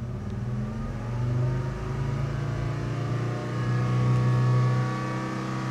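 A car engine idling and revving gently while it warms up, a steady low hum that swells slightly a couple of times, fairly close and with no one talking.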